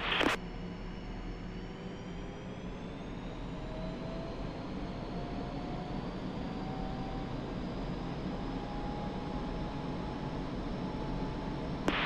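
In the DCS flight simulator, an F-5E jet engine spools up toward 95% RPM, a steady loud roar and hiss with a slowly rising whine, continuous and alone throughout.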